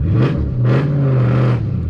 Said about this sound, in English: And I'm hitting the gas going up the hill